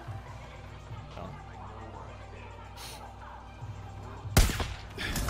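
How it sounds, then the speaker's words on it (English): A single sharp, loud gunshot in Far Cry New Dawn bursts out after a stretch of quieter game ambience and background music, followed by brief echoing noise. "You just heard the gunshot."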